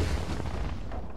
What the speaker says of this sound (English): So this is the ballista.